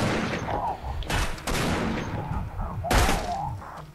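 Rifle gunfire in the video game Damnation, with several sharp broadband shots spread across four seconds amid ongoing game noise and a busy mix, loud and close.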